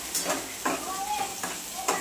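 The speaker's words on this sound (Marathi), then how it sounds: "मस्त असं टमाटर परतून घेऊ।" Chopped tomato stirred into a hot tempering for chapati poha, with a continuous close sizzle broken by several spatula scrapes and knocks against the pan, no voices.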